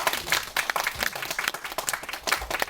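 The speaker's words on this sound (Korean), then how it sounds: "박수 한번 부탁드립니다" Audience at a Korean film screening Q&A applauding steadily, dense overlapping claps filling the room at moderate loudness with no talk over them.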